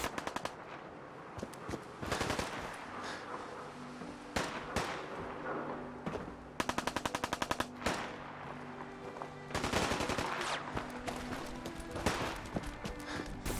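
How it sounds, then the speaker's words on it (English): Bursts of automatic and single-shot gunfire from a video game with a muzzled, hardened, piercing 10mm Auto pistol, rattling in several loud volleys separated by short gaps, including rapid strings of shots, with no talking. "I tend to run towards gunfire."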